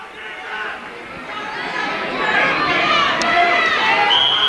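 A full, noisy crowd at a high school wrestling match fills a gym with a steady roar of chatter and shouting that swells slightly, with an announcer's voice over it and a brief whistle-like tone.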